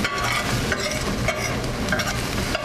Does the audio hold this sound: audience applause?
no